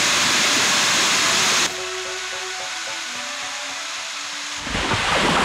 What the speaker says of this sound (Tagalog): natagpuan na ni Erwin ang falls na ito